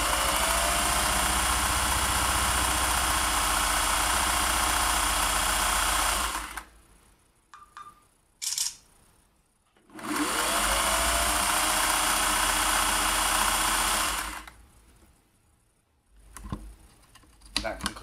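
A vintage Singer 401a sewing machine runs in two long, steady motorized bursts of stitching, loud and close, separated by pauses filled with quiet clicks and handling of the machine.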